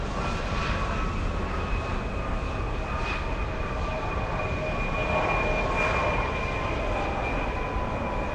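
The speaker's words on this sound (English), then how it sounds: "SkyWest 5759 flying in from Fresno, California. Little E175." A SkyWest Embraer E175 regional jet arrives at LAX from Fresno, its engines making a steady, sustained roar with a faint whine throughout, heard from a distance on the airfield without any voices.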